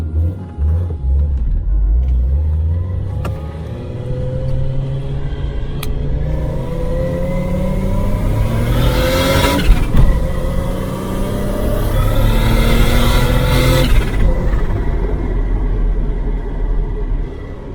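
A vehicle engine hums and rumbles while driving, pitch climbing through several gear changes with surges of revving, steady and loud from start to finish.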